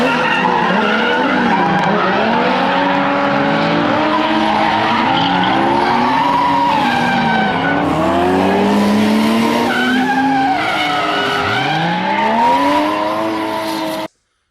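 A Nissan S13 fitted with a 1.5JZ engine drifts at a drift event in Oregon, engine wailing and rising and falling with revs while tires squeal loudly and continuously, close up with no talking.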